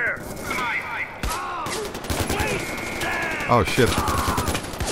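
Rapid bursts of automatic gunfire and scattered shots crackle through a Far Cry 4 firefight, dense and continuous, while a person speaks briefly over the shooting.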